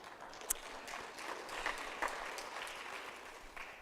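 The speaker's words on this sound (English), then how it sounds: "the applause that you've been given" Audience applause at a presidential installation ceremony, a sustained crowd of clapping hands with a few sharper individual claps and a whoop or shout standing out.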